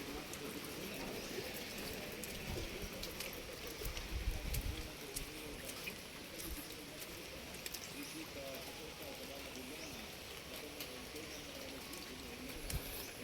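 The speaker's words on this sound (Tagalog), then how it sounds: "Walang tigil ang ulan dito sa Manila." Steady rain patters across the whole clip in Manila, a dense even hiss with occasional louder drops, nearby and continuous with no voices.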